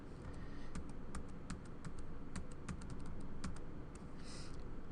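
Code is typed on a computer keyboard as a quick, uneven patter of key clicks over a steady low background hum, close and soft.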